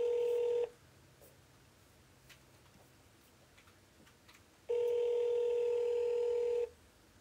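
A house phone line rings out on a call: two long electronic ring tones separated by a quiet gap, clear and fairly loud, with faint ticking in between.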